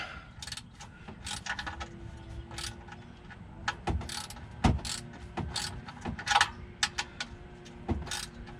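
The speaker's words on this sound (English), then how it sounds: "The drain plug that I loosened earlier. Crack that the rest of the way." Ratchet wrench clicking in short bursts as it cracks loose a car's oil drain plug, close and fairly loud, with metallic ticks and clanks and no talking.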